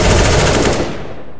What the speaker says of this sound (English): it shoots just like a normal AK without a magazine or any real bullets anywhere close to the gun